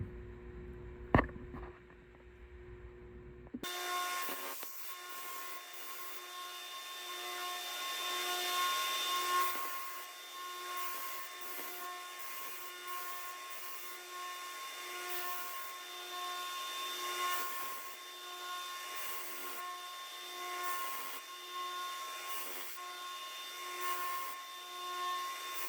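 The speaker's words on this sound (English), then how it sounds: "since I already heat treated this, I'm using a 60 grit ceramic belt to limit heat" Belt grinder with a 60 grit ceramic belt grinding a heat-treated marking knife blade, a sustained harsh whir after a brief quiet start, rising and easing slightly as the blade is worked.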